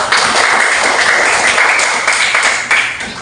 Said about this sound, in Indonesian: Berikan tepuk tangan kepada temannya.